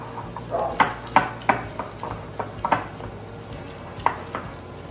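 A utensil scrapes and clinks against a bowl while mixing a thick paste of brown sugar and syrup for candied bacon, giving about eight moderate knocks at an uneven rhythm.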